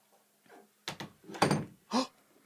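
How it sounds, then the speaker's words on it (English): A door thuds shut in a sequence of short knocks and bumps, with a heavier thunk near the middle and quiet gaps between the hits. "Robert, will you please close the door if that's you?"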